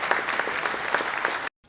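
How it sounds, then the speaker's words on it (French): A commemoration crowd at the Dieppe anniversary of Operation Jubilee applauds warmly, a dense steady wash of many hands at moderate distance that cuts off abruptly at the end. "ça mérite un applaudissement chaleureux"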